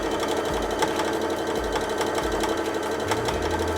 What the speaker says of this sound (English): put it in your sewing machine as soon as you get to the end of your square